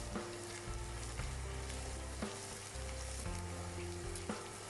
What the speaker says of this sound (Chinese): 翻炒至蒜苔断生